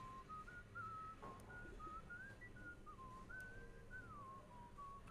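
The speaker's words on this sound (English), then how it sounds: "Okay. Whistling." A character in the video game Shadows Over Loathing whistles a meandering tune, a thin melody of short rising and falling phrases that runs on faintly over a low background hum.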